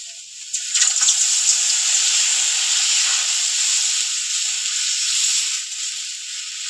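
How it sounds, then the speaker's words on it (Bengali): Water poured into a pan of bitter gourd curry with mourola fish, filling the clip with a loud, steady steaming hiss and sizzle that runs continuously for about seven seconds. "এবার জল দিয়ে দেবো।"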